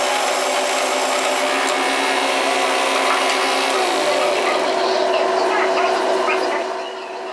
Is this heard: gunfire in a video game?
no